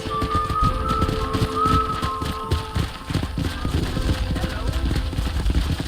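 Steady clip-clopping of horse hooves at a walking pace in Red Dead Redemption, mixed with game-style background ambience and music; no clear talk over it.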